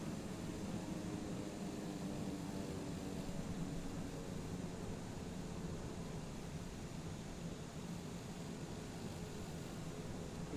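A steady, low, faint broadband engine hum from an airplane taxiing in Microsoft Flight Simulator, constant and unbroken with no talk.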